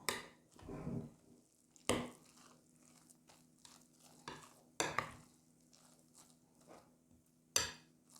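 Grated potato batter for meat-filled potato pancakes, mixed with pepper blend, stirred in a bowl with a series of separate wet, squelchy scraping strokes spaced a second or two apart, close and moderately loud with quiet gaps between.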